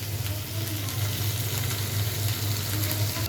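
Radish greens sizzle steadily as they fry in a pan, with a continuous close crackle and faint scraping of stirring, no voices.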